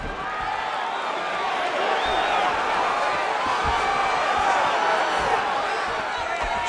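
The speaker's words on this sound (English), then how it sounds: "they can take in the applause because they deserve it after that grappling exchange" A large video game crowd in UFC 5 roars and applauds continuously at a fight, a dense wash of cheering and clapping with scattered whoops and a voice mixed in.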